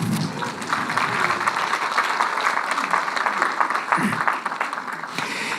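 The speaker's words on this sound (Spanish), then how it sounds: "Sí, un aplauso para Jesús, ¿cierto?" A Sunday church congregation applauds for Jesus, a sustained patter of many hands clapping at moderate volume, with voices mixed in beneath it.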